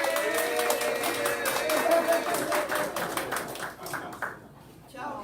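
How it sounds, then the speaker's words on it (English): A group at a district community breakfast claps, with sharp hand claps crowding the first few seconds under voices and then thinning out as the sound fades toward the end. "Hand clap."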